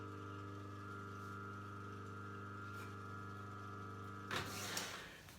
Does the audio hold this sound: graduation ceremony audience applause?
no